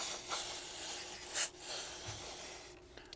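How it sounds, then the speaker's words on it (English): A small wire brush scrubs debris out of a rear brake caliper on a 2022-or-later Volkswagen Mk8 Golf R, giving a steady close raspy rubbing with a few stronger strokes, no talking. "Little wire brush helps a lot in this scenario, just to break up some of that debris."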